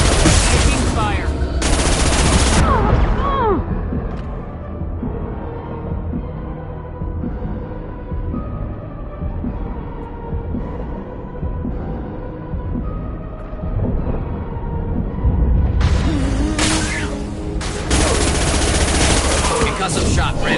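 Sustained gunfire in the Mass Effect 2 video game, with loud bursts of rapid automatic shots at the start and end and continuous combat noise between them, under a game voice.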